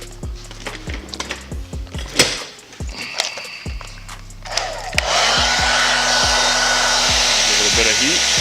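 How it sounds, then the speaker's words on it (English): A heat gun blows hot air onto vinyl wrap on a car hood, starting after a series of knocks and handling clatters and then roaring as a steady, loud whoosh that holds until the end. "I grab my heat gun."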